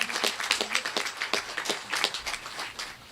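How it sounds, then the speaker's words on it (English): Applause from a crowd at an outdoor ribbon-cutting ceremony, a few seconds of fairly steady clapping at moderate loudness. "give him a really loud round of applause"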